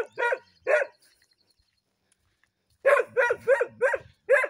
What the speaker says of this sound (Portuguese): é bonito esse cachorro